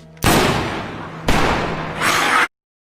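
Gunfire in a zombie film: two or three loud, close blasts in quick succession, each with a long rumbling decay, the last one brighter and cut off abruptly.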